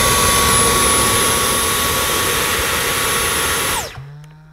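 A Dyson V10 cordless vacuum fitted with the laser detect fluffy head runs with a loud, steady high-pitched whine and rushing airflow, then switches off near the end, its pitch sliding down as the motor winds to a stop.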